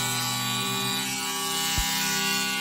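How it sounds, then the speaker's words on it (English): A metal grinder sharpening saw teeth gives a steady, loud, unbroken high whine with a brief thump near the end, running alone without talk. "sharpen them with this metal grinder and get those teeth very sharp"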